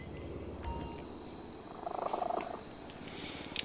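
A cat purrs in the video game GTA 5 Online, a soft low rumbling purr that swells louder mid-clip, heard close and alone against a quiet background.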